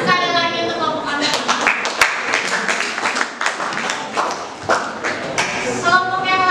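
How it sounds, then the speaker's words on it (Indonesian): A classroom group of students applauds after a performance in an arts and culture session, with quick, brisk clapping that swells in the middle and then tapers, while voices talk over the start and end. "Tepuk tangan sekali lagi untuk kelompok Anda"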